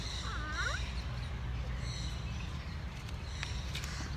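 At the Honolulu Zoo, birds being fed leaves give a brief, faint gobbling call near the start, followed by quiet outdoor ambience with a few soft chirps.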